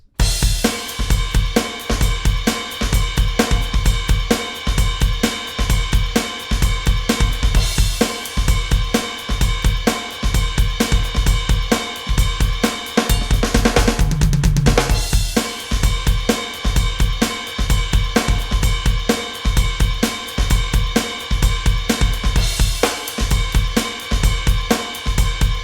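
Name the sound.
drum beat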